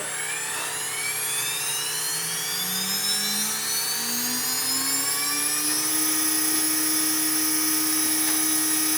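A CNC router spindle spins up to cut a guitar body, its high whine rising steadily in pitch before settling into a loud, constant tone, with no talk.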